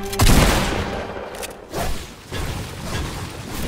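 Loud bursts of silver SMG gunfire in the Fortnite video game, with dense, rapid shots in a few close volleys and booming impacts between them.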